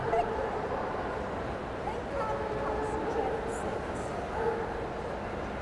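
A dog barks a few times during a novice obedience exercise at Crufts 2014. The barks are fairly faint within the hall's steady background murmur, and people talk around them.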